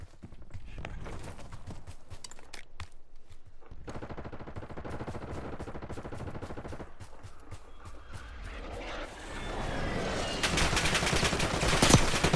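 Gunfire in the Warzone battle royale video game, with bursts of shots crackling throughout over a steady background of game sounds, growing louder and denser toward the end.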